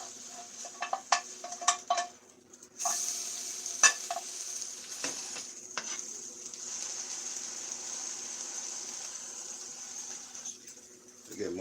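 Egg and spinach sizzle and simmer steadily in a pan, a constant frying hiss that follows a few scattered clinks and stirring sounds in the opening seconds.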